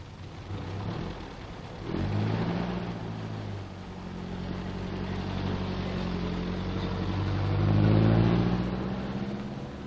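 Engine of a military mechanical cable layer vehicle moving off, a low rumbling motor rising and falling as it revs and pulls away, moderately distant.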